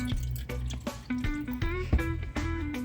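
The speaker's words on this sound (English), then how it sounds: "I'm gonna start adding my water." Ice-cold water is poured into butter and flour for Jamaican gizzada pastry dough, giving a close trickling and dripping pour with ringing tones across a few seconds.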